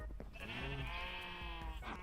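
A sheep in a modded Minecraft game bleats in one long, wavering, steady cry, loud and close with nothing else over it.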